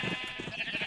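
Repeated short sheep bleats from Minecraft, soft and evenly spaced over a steady high-pitched background tone, with no voices.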